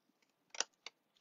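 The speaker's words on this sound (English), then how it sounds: "I'm just kind of resting the blade of my scissors against the card base" Paper scissors snip through the end of a card during card making: a couple of faint light ticks, then two crisp, close cuts about a quarter second apart, with quiet room around them.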